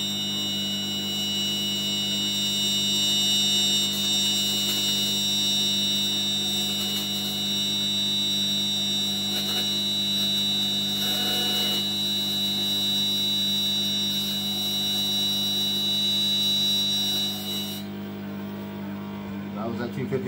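A Zelda 250 TIG welder pulsing at 250 hertz gives a steady, loud electrical buzz with a constant high tone that holds for about eighteen seconds, then cuts off, leaving a low hum.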